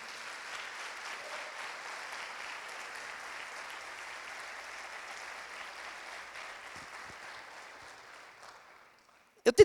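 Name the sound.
church congregation applauding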